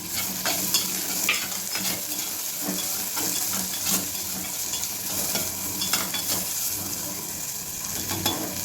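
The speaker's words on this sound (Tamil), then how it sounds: "இப்போ வெங்காயம் போடுறேன்." Onions, three medium-sized, stirred and frying in a hot pan for a home lunch recipe: steady close sizzle with repeated scraping stir strokes throughout, no talking.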